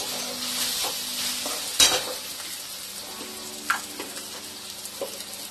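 Spice masala of red chilli and turmeric powder fries in a pan for a Bengali mutton curry, a close continuous sizzle with occasional clinks and scrapes of a spoon stirring it, no talking.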